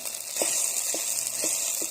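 Tomato and turmeric masala sautéing in a pan, a steady soft sizzle with a few light stirring taps, close and alone without talk.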